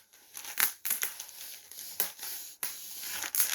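Adhesive tape is pulled off a roll up close, giving several sharp ripping and crinkling bursts with short pauses between them and no voices.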